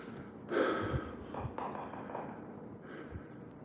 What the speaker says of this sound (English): You can hear already it's affecting my breathing.